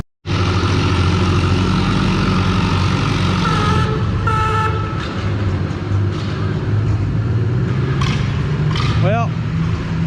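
A farm tractor strains loudly through a tractor pull at the NW Fall Nationals, its engine roaring without a break for about ten seconds, with a brief horn-like toot near the end.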